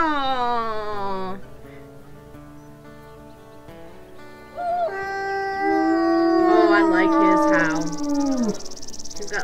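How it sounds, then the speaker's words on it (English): Wolves in the game Wolf Quest let out long sustained howls, one higher and wavering, then a deeper, more serious howl joining in, loud and close, with crickets chirping in the background. "Got like a deep howl, like a deep, more serious howl to counteract our goofy ass one."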